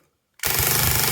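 A KWA MAC11 gas blowback airsoft SMG opens up after a short silence, firing a loud, rapid, continuous full-auto burst at close range with no talking.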